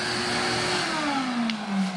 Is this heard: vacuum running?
yes